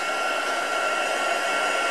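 A heat gun blows hot air across curled card for a mini pizza box, giving a constant, even whooshing roar at close range with no pauses and no talking.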